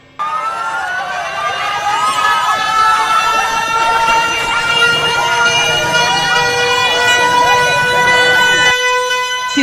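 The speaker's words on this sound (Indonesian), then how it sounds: "Sirine panjang berbunyi sebagai tanda baru saja terjadi gempa dengan magnitudo yang besar." A long, loud emergency siren wails steadily in Padang, Indonesia, marking an earthquake during a tsunami evacuation drill, its rising, layered tone held for seconds over murmuring crowd noise.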